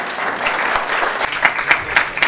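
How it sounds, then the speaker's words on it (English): Loud conference audience applause as panelists leave the stage at an esports event, dense clapping with a few sharper individual claps standing out toward the end. "please give them a round of applause as they exit the stage"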